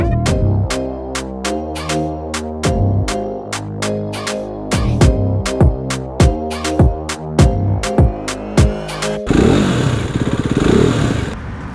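A motorcycle engine idles loudly and steadily up close, with a rhythmic throbbing pulse, ending in a rougher, noisier rev.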